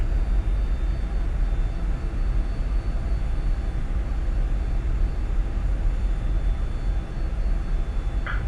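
Steady low engine drone of a Cessna Citation 550 business jet taxiing in the flight simulator X-Plane 11, a continuous rumbling whine with a faint high tone, even and unbroken for several seconds.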